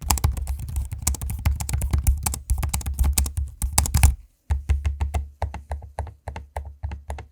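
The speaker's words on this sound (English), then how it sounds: "here's a quick audio sample so you can hear what it sounds like, both the keyboard and trackpad" Rapid, steady clicking of 2023 Acer Swift X 14 laptop keys up close, a brief silence, then sparser keyboard taps and trackpad clicks continue at an irregular pace.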